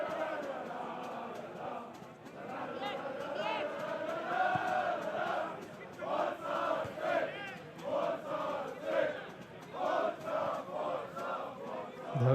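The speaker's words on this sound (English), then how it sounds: "As you can probably hear, they are still ferociously cheering their side on" A home crowd at a football match chants and cheers in rhythmic, rising and falling waves, loud and sustained, with the rhythmic surges of voices repeating across the stands.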